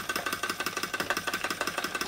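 A Wilesco D406 live steam traction engine, black and brass, runs with a quick, even chuff that repeats about ten times a second, close and fairly quiet, with a faint hiss beneath.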